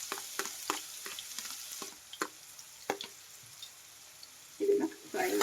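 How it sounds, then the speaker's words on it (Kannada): Finely chopped onions, three medium ones, frying in hot oil for vegetable Maggi masala noodles, with a soft steady sizzle broken by a few stirring clicks and scrapes, and a louder burst near the end. "ಎಣ್ಣೆ ಬಿಸಿ ಆಗಿದೆ. ಸಣ್ಣದಾಗಿ ಹೆಚ್ಚಿರೋ ಅಂತ ಈರುಳ್ಳಿ ಹಾಕ್ತಾ ಇದ್ದೀನಿ"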